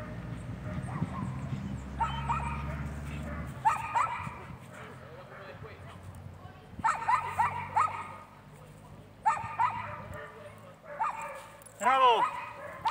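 A puppy in a training session gives short bursts of yips and barks, ending in a rising whimpering whine, close and clear, with low rumbling noise early on and pauses between outbursts.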